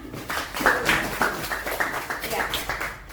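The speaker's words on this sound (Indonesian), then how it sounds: "Oke, tepuk tangan." A group claps hands together in a classroom or meeting setting, a steady patter of many palms running throughout, mixed with chatter and voices talking over it.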